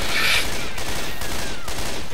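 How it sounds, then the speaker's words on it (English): A single loud sniper rifle shot cracks out near the start in the co-op zombie shooter Left 4 Dead 2, followed by a steady wash of in-game ambience. "I will shoot her in the head with a sniper"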